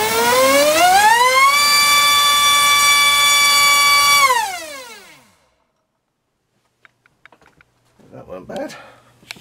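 A Keda 2847 3900kv inrunner motor swinging a 4.5x4.5 TGS prop whines up to a loud, steady high-pitched scream, holds there for a few seconds, then spools down to silence, with a few faint clicks and a voice talking at the end.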